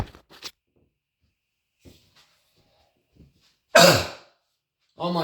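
One loud, harsh croupy cough from a person with bronchitis, alone after a few faint breaths and small throat noises, followed by a short voiced rasp at the end.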